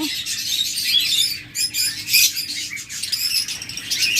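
Caged opaline lovebirds in a breeding setup chirp and twitter busily, making a dense run of overlapping high, sharp calls that continues with short pauses.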